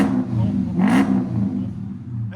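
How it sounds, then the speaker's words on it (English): A 2013 Dodge Charger SRT8 with its 6.4L HEMI V8 and Jones mufflers revs up once in the snow, with a loud, steady low engine rumble rising into a brief throttle blip. "Give it gas"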